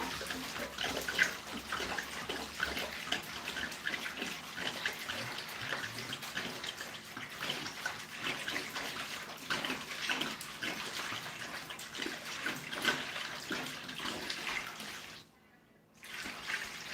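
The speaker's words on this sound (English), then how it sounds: "So we'll add 5 gallons of ice water to this one." Five gallons of ice water poured into a large container, a steady rushing, splashing flow that runs almost continuously before dropping out briefly near the end, then resuming.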